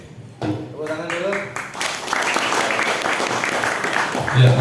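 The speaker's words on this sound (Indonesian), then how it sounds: "Tepuk tangan dulu." Audience applause at a creators' meetup after an Islamic speaker's talk, a dense steady patter of clapping swelling in after a brief spoken phrase and continuing loud to the end.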